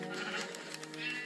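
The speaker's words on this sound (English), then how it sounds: "Sheep." A sheep in a video game gives one wavering, sustained bleat, clear and alone, lasting just over a second.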